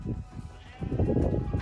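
Several sheep bleat in a rough overlapping chorus while being loaded through the side doors of a trailer, close and fairly loud, with a denser stretch of calls in the second half.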